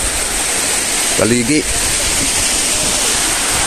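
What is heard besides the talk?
rainwater flowing downhill through a flooded onion field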